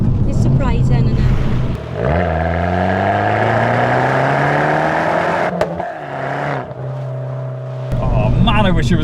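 An Abarth 595, the hot Fiat 500, pulling hard in first gear on a wet, bumpy road, its engine note rising steadily in pitch and then dropping at a shift, loud and close with someone talking over it.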